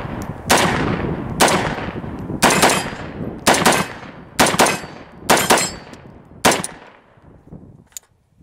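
A CMMG MK47 Mutant rifle chambered in 7.62x39 fires seven or eight loud, close shots at a steady, roughly one-per-second pace, each crack ringing briefly before the next, with no talking.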